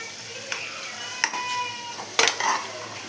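Masala with ginger garlic paste sautéing in a pan, a steady background sizzle broken by a few sharp scraping stirs of the spatula against the metal.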